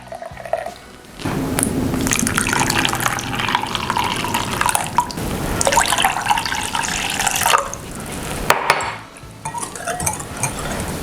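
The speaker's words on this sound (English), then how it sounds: "we're going to combine that with a cup of hot water" Hot water pours into a bowl of gelatin for a 1960s blueberry cream cheese jello salad, a steady splashing stream running for several seconds, with clinks of a bowl and utensils around it and a short pause near the end.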